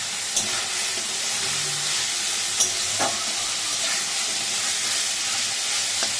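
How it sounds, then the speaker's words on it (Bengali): Rice frying in a pan with crushed cardamom, cloves, cinnamon and two bay leaves, a steady loud sizzle and hiss with occasional stirring scrapes and clicks. "দিয়ে এবার এটাকে ভালো করে ভেজে নিই।"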